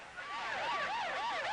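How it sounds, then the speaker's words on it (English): Ambulance sirens wail through Beirut in 1982 archival footage, a rising and falling electronic tone sweeping repeatedly with overlapping sirens, moderately distant and alone. "Ambulances screamed throughout Beirut, carrying dead and wounded to nearby hospitals."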